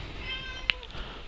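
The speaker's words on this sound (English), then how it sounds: "Sorry, that's my cat." A pet cat meows indoors once, a short faint cry behind low background noise near a computer, with a quiet voice around it.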